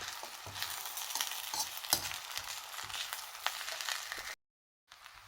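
Fried rice with corn and shrimp stir-frying in a pan, with a continuous close sizzle and repeated spatula scrapes and tosses, then a brief silence and a short return of sizzling.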